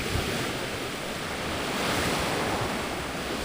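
Ocean surf on a beach at San Antonio, Zambales, a steady, full roar of breaking waves with no pauses, fairly loud and continuous, swelling slightly midway, with some wind buffeting the microphone.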